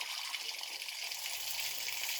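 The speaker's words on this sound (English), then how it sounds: "But we still got water pouring out of here" Water gushes steadily out of a faulty steam boiler in a Chicago plumbing job, a continuous close hissing rush with no pauses.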